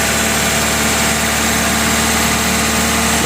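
A car engine idles with the radiator fan running, making a loud, steady, dense drone and hum throughout with no speech.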